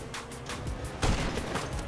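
Rapid sniper-rifle gunshots in an online match of GTA V, several sharp bursts in quick succession with one louder blast near the middle, close and punchy.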